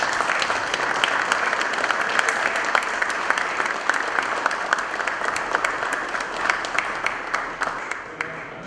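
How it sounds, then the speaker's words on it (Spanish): An audience applauds loudly and steadily for a guest, Manuel Belgrano, with dense, sustained clapping that thins slightly toward the end and a few voices mixed in. "Un fuerte aplauso para él."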